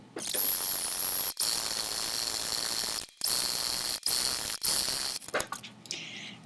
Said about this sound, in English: Stitching right next to it, not on top of it.